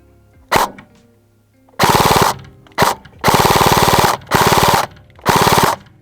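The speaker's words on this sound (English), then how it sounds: "Only when the trigger gets fully depressed, the replica starts to fire in full auto, just like the real P90." A Krytac FN P90 airsoft replica fires in full auto, loud and close: five separate bursts of rapid, evenly spaced shots, some short and some longer, with quiet gaps between and no talking.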